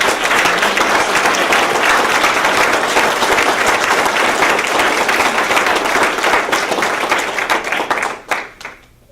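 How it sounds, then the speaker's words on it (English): Sustained applause from an audience at a school board candidate forum, steady dense clapping filling the room for about eight seconds before tapering off to a few last claps. "So now I ask you to join me in applauding and thanking the candidates for running and being so interested in this."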